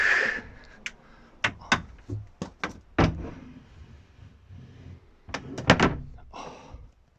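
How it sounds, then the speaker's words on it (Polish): A fold-out bed with storage compartments is unfolded inside a Mercedes Sprinter expedition camper van, producing a string of sharp clicks, knocks and heavier thunks at uneven intervals, close by, with no talking. "Tak jak pokazywałem magazynek i łóżko które się rozkłada tak."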